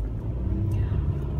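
A car travels along a road, heard from inside as a steady low rumble of engine and tyre noise at a constant level, with no talking.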